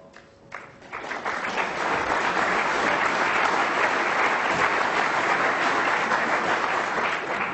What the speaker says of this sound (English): a very deserved round of applause for an excellent safety shot there from Ali Carter